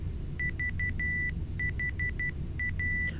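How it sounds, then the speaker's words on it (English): Repeated electronic beeping in a Boeing 727 cockpit in a flight simulator game, short evenly spaced tones in groups with one longer held tone, steady over a low engine rumble. "What is the beeping?"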